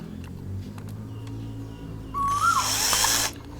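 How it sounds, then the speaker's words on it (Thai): Electric drill boring a hole in a plastic bottle, a loud close whine that starts abruptly partway through and runs for about a second before cutting off, after a quieter stretch of background hum. "เราก็ใช้ สว่านเนี่ยแหละครับ เจาะรูไปเลย"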